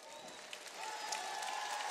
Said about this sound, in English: the crowd celebrates another Connecticut Sun win